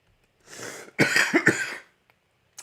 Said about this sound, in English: After I cough